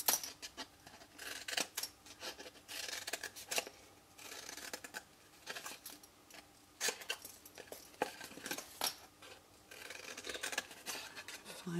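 Scissors snip repeatedly through card, cutting wedges out for a folding rectangular box lid in a papercraft project; crisp, close, irregular cuts with short pauses, no talking.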